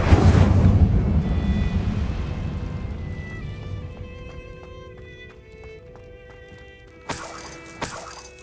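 A fire spell cast in a Harry Potter video game opens with a loud roaring whoosh that fades into a long crackling tail, then two sharp bright bursts near the end.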